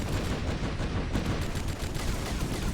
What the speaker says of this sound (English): Go my automatic Falcon turrets that I have no control over